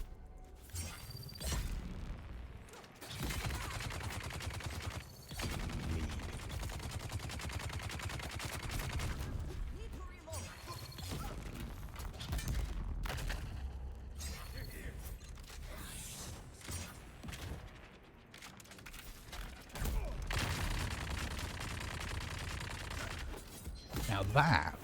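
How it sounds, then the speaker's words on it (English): Vulcan cannon in the video game Dune Awakening fires in long, dense, rapid bursts, apparently at twice its normal rate, a loud continuous rattle mixed with mechanical game effects across the whole stretch. "Now that Vulcan cannon sounds like it's bugged and it's firing twice as fast as it should."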